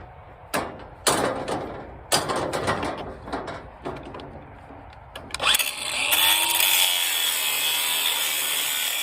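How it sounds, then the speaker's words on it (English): A few scraping, clunking knocks on a metal cattle squeeze chute give way to a small cordless grinder spinning up into a loud, steady, high-pitched whine. "So I'm going to try this little cordless grinder."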